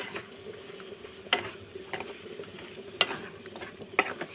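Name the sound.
stirring banana flower curry with coconut in a pan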